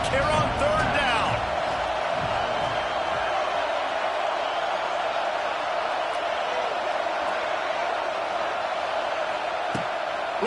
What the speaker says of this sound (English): This Auburn crowd trying to conjure up a little magic here on third down.